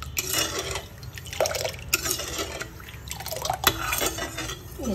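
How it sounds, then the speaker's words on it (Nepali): A spoon stirs sugar and salt into water, clinking and scraping against the vessel amid light liquid sloshing, close and fairly loud with irregular taps. "कस्तो चिनी नुन पनि लगाएर यसरी घोलिदिने"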